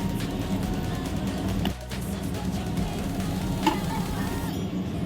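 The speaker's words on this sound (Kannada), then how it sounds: "ಈರುಳ್ಳಿ, ಹಸಿರು ಮೆಣಸಿನ್ಕಾಯಿ ಹಾಕಿ ಫ್ರೈ ಮಾಡ್ತಾಯಿದ್ದೀನಿ." Onions and green chillies frying in a pan for a chicken biryani, a steady close sizzle with faint stirring scrapes, one short dip in the hiss midway and a light tap near the end.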